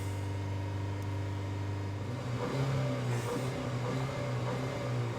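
A 2015 Ford Focus 1.5 EcoBoost engine, throwing a lean post-cat fault code, is revved from idle up toward 3000 RPM; a steady close hum rises in pitch after about two seconds and holds there.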